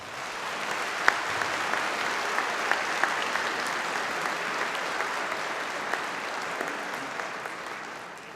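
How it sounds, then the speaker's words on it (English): Audience applause at a university convocation ceremony honours the MacEwan University Big Band, a broad steady patter of many hands with a few sharper nearby claps, moderately distant and sustained before tapering off. "Let's give a big round of applause"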